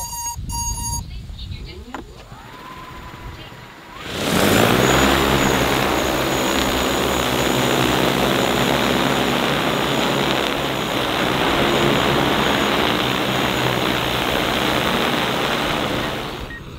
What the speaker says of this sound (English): The drone is about to take off.